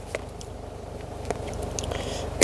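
Someone bites and chews food while tasting it, with close, wet chewing and a few sharper crunchy bites, the loudest right at the end.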